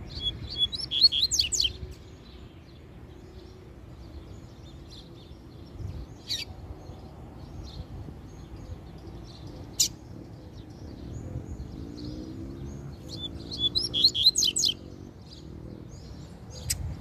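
A male coleiro, a double-collared seedeater, sings near its female in a cage, letting out quick bursts of bright rapid trills at the start and again near the end, with sparse sharp chirps between over a low background hum.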